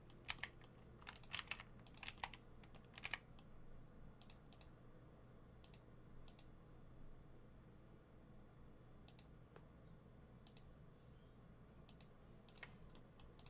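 Computer keyboard keys pressed for Blender shortcuts, with faint, scattered clicks in small bursts over a quiet room hum.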